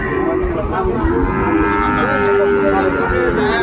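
Sahiwal cattle at a livestock market, a loud sustained moo close by that rises and falls in pitch over several seconds, with crowd noise and chatter beneath.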